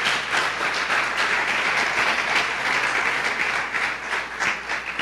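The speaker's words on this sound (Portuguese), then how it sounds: "Uma salva de palmas ao Senhor" Sustained applause from a church congregation at a Nova Vida service fills the space evenly, a dense wash of many hands clapping without pause for the full stretch.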